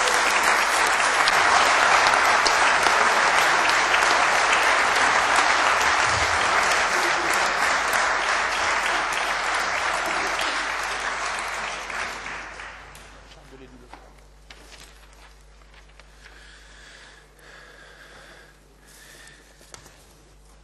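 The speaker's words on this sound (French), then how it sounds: "ils méritent vos applaudissements" Departmental council members in the Oise give loud, sustained applause for newly elected vice-presidents, a thick roar of clapping lasting over ten seconds before tapering off into a quiet hall with faint murmurs.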